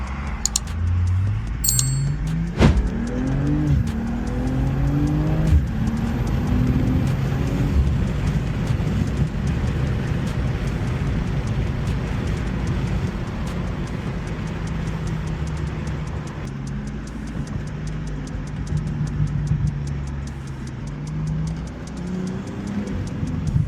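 A BMW M340i drives along, its engine droning and rising through gear changes from inside the cabin, with steady road and tyre noise and a brief jingle of keys early on.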